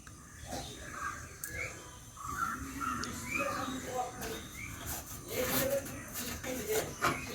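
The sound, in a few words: cutting a paper template for car body panel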